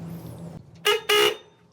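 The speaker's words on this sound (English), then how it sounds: "I'll just ground this and see if we honk" A Volvo 240's car horn, wired straight to a test lead and grounded during a horn repair, gives two loud, close high-tone honks about a quarter second apart, following quiet shuffling.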